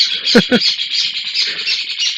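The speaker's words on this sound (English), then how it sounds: "Oh, here go the birds." Birds squawk and chirp outdoors, two sharp loud calls up front followed by a steady high chatter of chirps that runs throughout, with faint murmuring underneath.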